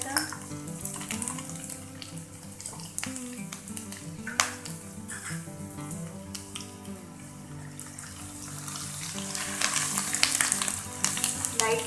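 Chopped garlic and ginger sizzle and crackle steadily in hot oil, with bright spattering pops throughout. The sizzling grows a little louder near the end, and nobody speaks.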